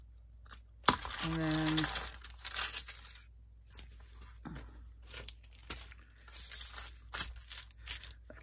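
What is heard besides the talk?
cutting paper along the edge for a travel journal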